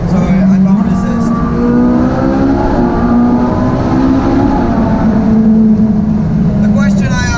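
Ferrari 458 Speciale engine revving inside a tunnel, loud and echoing, with a long steady howl that swells and then eases off as the revs fall, continuous throughout.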